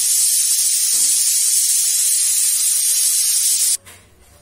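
Loud, steady hiss of steam escaping from a pot of boiled cowpea dal, running continuously for several seconds before cutting off abruptly, leaving faint room noise.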